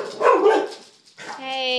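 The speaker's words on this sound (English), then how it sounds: "Silly doggies." Small dogs yip and bark in a short excited burst, close by, followed by a brief higher whine after a pause.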